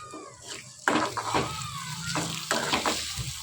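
Beaten egg frying in a pan while being stirred, a close, steady sizzle broken by louder scraping strokes of a spoon against the pan, with no voices.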